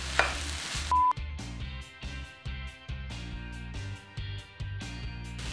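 Leftover stir-fry being stir-fried into vegan fried rice in a pan, a rhythmic series of spatula scrapes and tosses over a soft sizzle, with a brief beep near the start.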